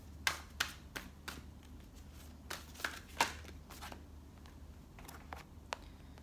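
Tarot cards being shuffled by hand, a short series of crisp riffling snaps and flutters at close range over a quiet background.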